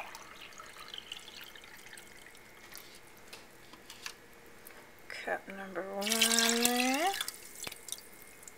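Two cups of water are poured into a pot of champagne poached pears with vanilla bean and lemon and orange zest; after some talk, a single close pour gurgles for about two seconds, rising steadily in pitch as the pot fills.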